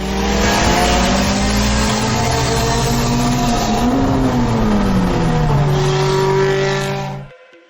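Mitsubishi Lancer Evolution X tuned to 700 HP accelerating hard in a drag race, a loud continuous engine roar with rising and shifting pitch that holds for about seven seconds before cutting off abruptly.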